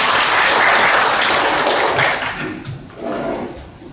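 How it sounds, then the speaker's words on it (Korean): An audience at a Seoul National University forum breaks into loud, dense applause welcoming a speaker, sustained for about two seconds before thinning out and fading. "큰 박수로 환영해 주시기 바랍니다"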